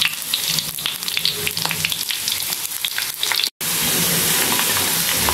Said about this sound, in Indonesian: Oke, kita panaskan minyak goreng